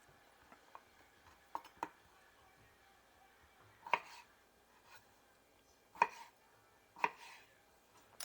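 A knife cuts food into small cubes on a board, giving a few sparse, quiet chops and taps with gaps between them.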